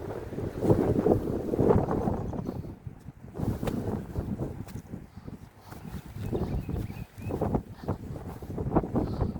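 Gusty wind buffets close by on an off-road trail near a river, in an uneven, rushing roar that rises and falls throughout, with no other clear sounds.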